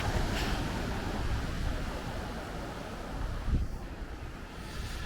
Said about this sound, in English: Those waves look quite big coming down that harbour wall.